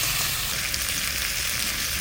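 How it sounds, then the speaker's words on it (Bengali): Local desi potatoes fry in oil with a steady, close, hissing sizzle that runs evenly throughout, with no voices over it. "আলুটা ভাজা ভাজা হয়ে গেছে,"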